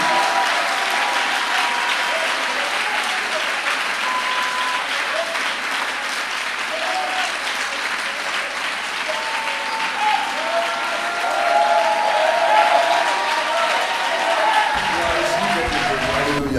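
Sustained applause and acclamations from a church congregation, a dense, steady roar of clapping and raised voices that holds loud for the whole stretch and swells slightly near the end.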